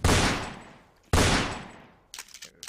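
Gunfire in the Roblox game Fortnite Simulator: two loud, sustained bursts of shooting, each cutting in sharply and fading over about a second, then a few shorter, quieter cracks.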